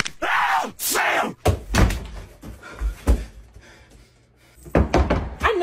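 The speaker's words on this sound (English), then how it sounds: "Wait, don't shut the door." A classroom door thuds shut once among several loud knocks and thumps, with people talking loudly before and after.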